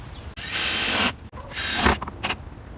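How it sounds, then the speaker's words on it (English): A power driver runs deck screws into chicken coop plywood in two close, loud bursts, each about half a second to a second long, with a short ratcheting whir after. "Then I'm going to get my deck screws in there, just like with everything else."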